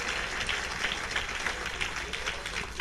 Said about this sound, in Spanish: Un aplauso a Cristo por eso